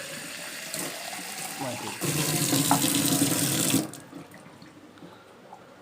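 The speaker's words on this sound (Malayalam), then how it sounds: "ഇതിൽ ശകലം വെള്ളം ഒഴിച്ചു കൊടുക്കും. കുറച്ച് വെള്ളം ഒഴിച്ച്" Water pours into a glass bottle while homemade bird feed is being prepared, a short bright splashing stream that swells for a couple of seconds and then stops, leaving a quiet room.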